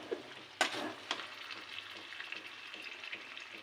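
Faint, soft frying and stirring of chicken manchurian in a frying pan, with a sharp clack of the utensil early on, then a low continuous sizzle with small scrapes.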